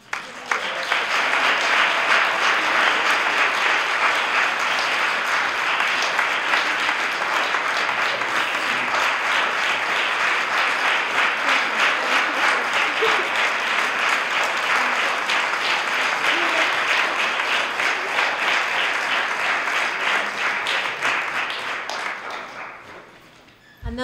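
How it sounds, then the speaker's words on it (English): An audience at a Yale University performance breaks into sustained, dense applause that holds loud and even for about twenty seconds before tapering off at the end. "Another round of applause"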